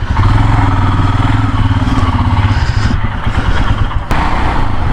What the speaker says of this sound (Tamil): கொஞ்சம் உள்ளே விட்டுடலாம் பைக்கை.